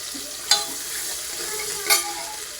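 Onion and spices being stirred in a frying pan, a steady soft sizzle with two sharp scrapes of the spoon against the pan, close and alone.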